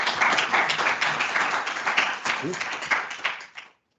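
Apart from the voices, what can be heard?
applause for the new board at an AGM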